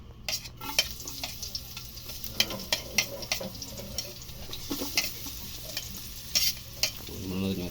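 Egg and tomato sautéing in a pan as a sarsiado sauce is made for fried dalagang bukid fish, a steady sizzle with frequent stirring scrapes and clinks, close and moderately loud with no talk.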